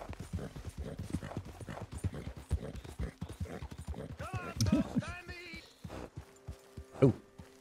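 Rapid clip-clopping hooves trot steadily in Red Dead Redemption 2, then slow as a horse snorts and whinnies; a brief voice cuts in near the end.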